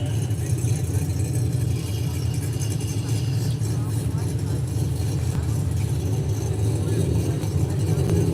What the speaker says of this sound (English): It says Pro Charger on the back of the Camaro here, and I believe it because it's loud.